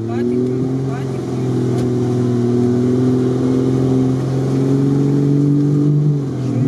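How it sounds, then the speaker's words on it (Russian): A KrAZ truck's diesel engine revs hard and steadily at close range, a loud sustained roar that rises slightly toward the end, with people talking over it. "Сильно очень газуешь."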